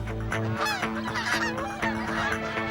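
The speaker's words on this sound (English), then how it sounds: "The local geese are heading south to safety." Local geese honking in a flock outdoors at a demolition test site, several overlapping nasal honks in quick succession, fairly close and clear with nothing else over them.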